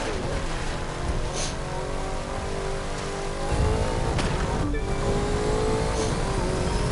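A car engine races loud and steady in The Crew 2, droning and revving with rising pitch sweeps and a brief shift partway through, alone with no talk.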